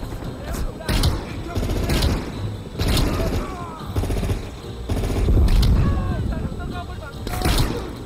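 Call of Duty: Cold War firefight with repeated sharp gun reports and booming hits spaced every second or two, loud and close, with someone talking over much of it.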